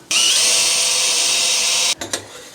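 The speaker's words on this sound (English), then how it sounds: "Give me my drill." A power drill whirs steadily at high speed for about two seconds, undoing screws in a bedroom makeover, then cuts off, followed by a couple of brief clicks and rattles.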